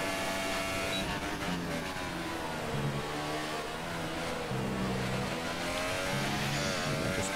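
An F1 car races flat out down a straight in overtake mode in F1 2018 at the France Grand Prix. The engine gives a loud, continuous high-pitched scream that rises and dips with gear changes, with no other sound.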